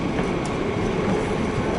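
A continuous low rumble of a Nightjet night train at Hamburg station, with a steady mechanical roar, heard close and fairly loud.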